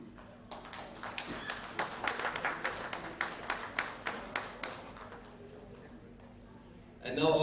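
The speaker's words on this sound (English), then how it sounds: "A huge round of applause, please." Scattered audience clapping at a villa launch event with a celebrity, rhythmic and moderately close, thinning out after about five seconds before a voice cuts in at the end.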